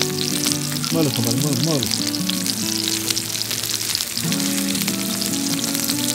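Pork rinds (chicharrón) fry in oil until golden, giving a steady, close sizzle that runs the whole time under background music and a brief spoken voice.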